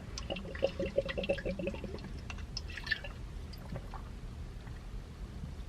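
Water dripping close by, a quick run of small, bright drips in the first two seconds, then a few scattered drops fading into quiet room tone.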